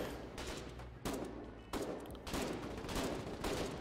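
Bursts of sustained automatic gunfire from a war video game come in several loud volleys separated by brief breaks, heavy and close, with no talking.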